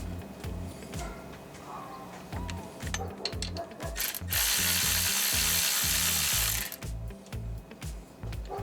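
A hand ratchet clicks in a steady rapid rhythm while alternator bolts are tightened on a 2007–2014 Cadillac Escalade, close and clear, with a brief louder burst of broadband noise midway.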